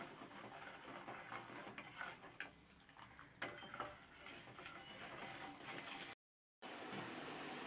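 Sugar being stirred into milk in a pan for paal poori: quiet repeated scraping and clinks of a spoon against the pan, close and fairly soft, with a brief gap near the end and no speech.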